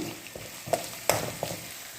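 Ginger, garlic and asafoetida frying in a pan for mango pickle, a soft steady sizzle with a few sharp stirring clicks, close and moderately quiet, no voices.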